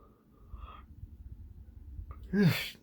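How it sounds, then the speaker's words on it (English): A person yawning, with a long breathy inhale followed by a rising, voiced stretch at the end, close and fairly quiet. "gotta get over this yawning"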